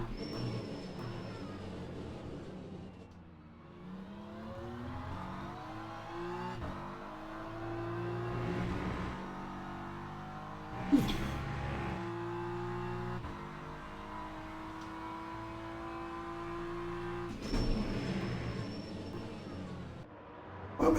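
GT3 race car engines in the video game Le Mans Ultimate at Portimão drone and rise through the gears, sustained and fairly steady with pitch sweeps as cars accelerate and shift, including a Porsche.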